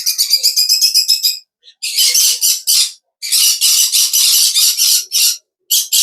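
A green-cheeked conure squawks loudly in harsh, rapid bursts, pausing briefly between volleys, very close and with no voices.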